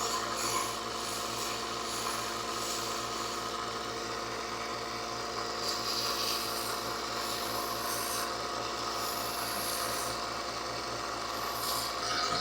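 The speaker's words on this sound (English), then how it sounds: "I'm going to try and sand this part more" Sandpaper rubbing back and forth on a small wooden figurine carved from a coffee mug hook, a steady rasping scrape that keeps going without a break and stays close.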